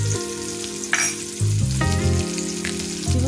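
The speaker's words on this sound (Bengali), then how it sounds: "পেঁয়াজ কুচিটা আমি দিয়ে দিচ্ছি। তেলটা আমার বেশ গরম হয়ে গেছে।" Chopped onion dropped into very hot oil, a loud close sizzle and crackle of frying, with sudden bursts as pieces hit the pan and stirring clatter, no voices.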